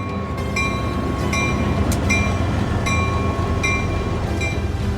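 A freight train hauling containers of compacted municipal solid waste rolls past, with a steady loud rumble of wheels and cars, repeated rhythmic clicks and a thin sustained squeal over the continuous rail noise.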